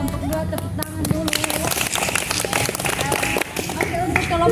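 A group gathered at a campus outbound training event claps together, a dense patter of hands lasting several seconds, with voices talking over the clapping throughout.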